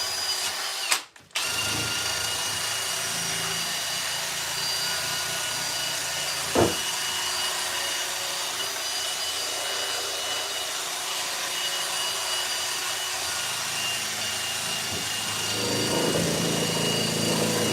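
A handheld power drill runs steadily and close for most of the stretch, a continuous whirring buzz with a short pause early on and a brief tap midway, during a workshop work session.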